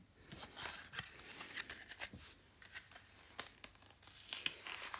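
A trading card blister pack is torn open in a series of soft, scattered rips and crinkles of plastic and cardboard, close but quiet, with a brighter rustle near the end.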